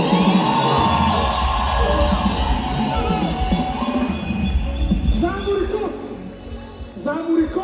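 A crowd at a Gisubizo Ministries church celebration ululates and cheers with many voices, a dense, sustained roar with rising and falling trilled calls that swell near the end, mixed with singing or talk.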